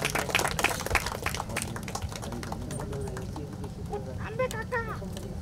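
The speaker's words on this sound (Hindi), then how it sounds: "प्लीज एक बार जोरदार तालियां हो जाएं" An audience at a song launch event claps with a steady mass of overlapping hand claps, loud and sustained, while a voice talks briefly over the noise near the end.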